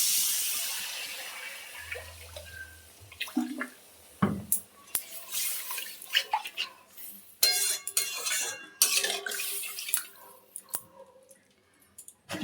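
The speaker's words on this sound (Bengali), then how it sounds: "এবারে আমি জল দিয়ে দিচ্ছি।" Water poured into fried masala in a cooking pot, splashing and bubbling with clinks of a utensil against the pot, a loud hiss as it hits the hot oil, then irregular sloshing and clattering close by.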